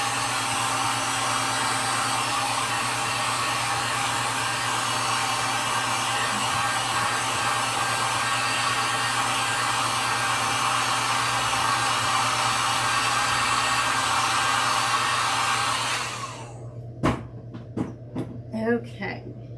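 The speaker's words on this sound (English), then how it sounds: "I'm going to grab my heat gun here. We're going to dry it one more time" A heat gun blows a steady, loud whirring roar while drying acrylic paint on a wooden sign, then cuts off abruptly near the end, leaving a few sharp knocks and handling sounds.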